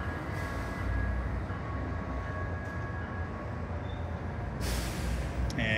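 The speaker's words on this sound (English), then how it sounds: "And here comes the train." A quiet electric train pulls in at a Salt Lake City station at night, a steady low rumble with faint high whines and a brief hiss near the end, continuous throughout.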